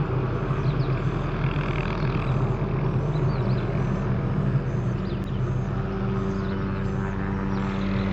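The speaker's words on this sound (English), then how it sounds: "Got a helicopter out here, and it's, I guess, cutting where the power lines are." Steady loud engine and rotor drone of a nearby helicopter working along power lines over a river, a continuous low throbbing hum with no pauses.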